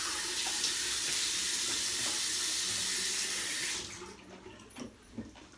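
A tap runs steadily with soft water while someone rinses after a shave, a loud continuous broadband rush that cuts off near the end, leaving a few faint drips and small knocks.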